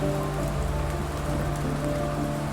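Steady rain patters densely on a surface, a continuous loud hiss of drops with a low hum underneath and no voices.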